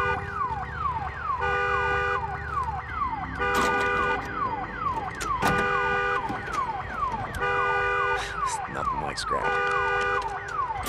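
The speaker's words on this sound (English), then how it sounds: "Damn alarm." In the video game Days Gone, an alarm siren wails in repeated rising-and-falling sweeps mixed with a steady tone, loud and continuous, with clanks and other game noises underneath.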